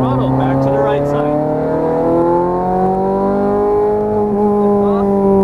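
A Ferrari 430 Scuderia howls at full throttle on a racing circuit, its loud, steady high-revving engine note climbing smoothly and continuously from start to finish, close and dominant.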